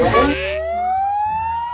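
An ambulance siren, loud and close, its wailing tone sweeping steadily upward and holding alone after a brief burst of mixed noise at the start.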